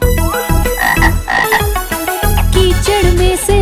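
Frog croaks set within a Hindi children's rhyme about rain and a frog coming out of the mud, steady croaking mixed with bright musical accompaniment and sung melody throughout.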